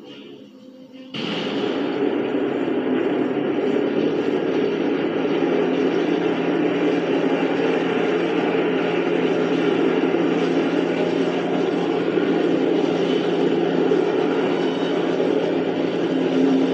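WWII Japanese propeller planes roar in a video game: Nakajima B5N, Aichi D3A and Mitsubishi A6M Zero aircraft fly in a Pearl Harbor attack wave. After a brief quieter start, the engines become a loud, steady, continuous drone.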